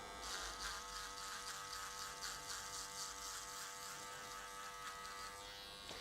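Foil shaver trimming stubble around the neck during a basic men's haircut, a loud close continuous electric buzz with steady vibration throughout.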